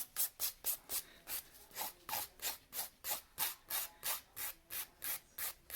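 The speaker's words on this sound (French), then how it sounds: "Je vais passer un coup de lime pour m'assurer que tout est droit, tout est égal." A nail file is rubbed back and forth over a gel nail, making about twenty close, even rasping strokes in a steady rhythm with nothing else heard.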